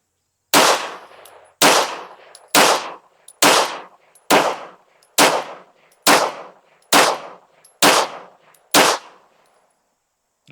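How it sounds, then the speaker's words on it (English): A Beretta APX A1 Tactical pistol fitted with a compensator fires 115 grain CCI Blazer rounds at a range, ten loud, sharp shots evenly spaced about a second apart, each with a brief decaying echo, with no talk. "so let's shoot a group at the bottom right."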